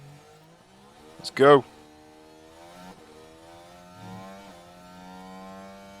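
A Williams F1 car's engine whines in the F1 Manager 2023 racing game as it accelerates with DRS open, a steady tone climbing gradually, while a voice speaks briefly over it.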